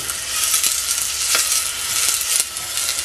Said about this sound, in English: and then I'm going to fry some onions